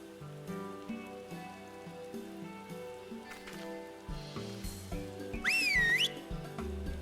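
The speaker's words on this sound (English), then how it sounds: "That's what the whistle sounds like." In Final Fantasy XIV, a magical whistle gives a bright, warbling, rising-and-falling tone that stands out over soft rain and background game music.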